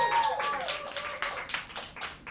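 Audience hand clapping at a live music show at Rockwood Music Hall, a short burst of distinct claps from a small crowd, with a faint voice and lingering tones underneath.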